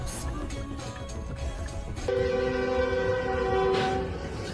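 A train rumbles past nearby, and partway through its horn sounds a sustained, loud blast over the rolling noise.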